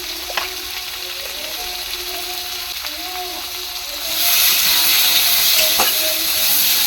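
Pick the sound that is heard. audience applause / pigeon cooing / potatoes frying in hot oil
potatoes frying in hot oil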